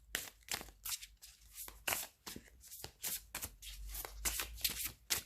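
Oracle cards being shuffled by hand before one is drawn, a soft, quiet riffling and sliding in repeated bursts with no voice.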